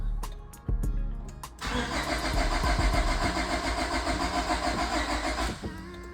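A Honda car engine, recently worked on near the crankshaft and timing marks, cranks with a few short bursts before catching and running loudly close by, then settles down near the end, with no talking.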